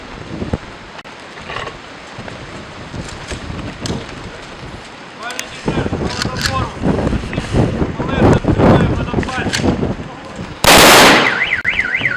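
A ceremonial gun salute volley by an honor guard at a memorial for fallen soldiers in Ukraine rings out near the end as one loud, sharp blast. Before it, outdoor background noise with wind and distant voices.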